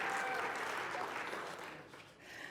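Audience members at a lecture hall talk clap together in a thick burst of applause that holds strong, then eases off slightly toward the end.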